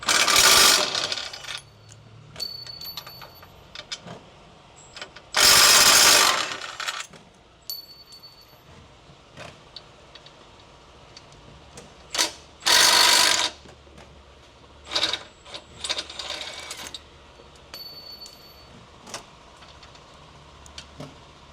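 Ratchet wrench loosening 14 mm nuts on the core support of a Nissan/Infiniti G35 sedan: bursts of ratcheting clicks in several separate spells, close and fairly loud, with quiet gaps between, no talking.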